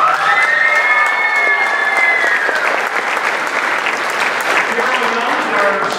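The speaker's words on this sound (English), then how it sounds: "Would you give them a big round of applause?" Sustained applause from a crowd fills the clip, dense clapping throughout with a few cheers and a voice briefly audible over it.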